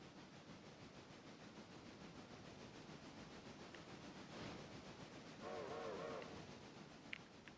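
A small model railway locomotive runs along its track on a miniature layout, a faint steady rumble with light rail clatter and a brief soft hiss near the end.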